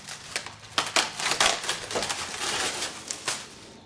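Styrofoam packing being pulled off a new Masterbuilt electric smoker during unboxing, with close squeaky scrapes, crinkles and a few sharp bumps in an uneven sequence, no speech.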